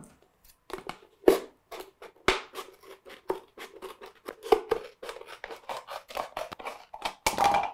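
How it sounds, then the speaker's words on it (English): Scissors snip through a plastic bottle being cut into pieces to build a bottle rocket, a run of sharp, close, irregular clicks and crackling cuts with brief pauses between them. "then finish it off with the scissors"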